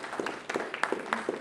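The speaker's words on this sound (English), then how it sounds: "So please give a warm round of applause for one of the smartest people I know" Audience applause at a Kitsap Patriots Tea Party meeting, a steady patter of many hands clapping together at moderate volume for a short stretch, with no talking over it.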